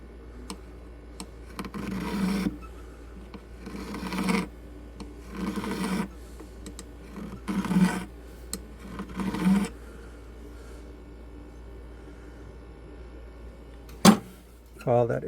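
A metal file rasping around the inside of a ring being resized, in a steady series of short scraping strokes with pauses between them, and a faint hum underneath.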